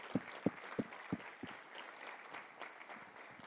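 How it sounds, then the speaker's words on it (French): Applause from a standing church congregation, opening with a few sharp, distinct claps that settle into softer, scattered clapping across the room, moderately distant and with no talk over it. "on peut les applaudir"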